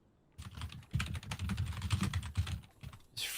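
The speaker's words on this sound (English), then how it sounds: "He's frantically typing." Rapid, frantic typing on a computer keyboard, a dense run of close clicks and clacks that starts after a brief quiet and keeps going with slight pauses.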